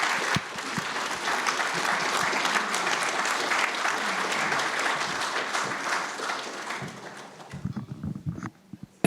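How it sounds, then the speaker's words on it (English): An audience at a care-themed talk applauds after a speech, steady dense clapping filling most of the clip before thinning out near the end with a few stray claps. "Round of applause again, please, for Martina Derry."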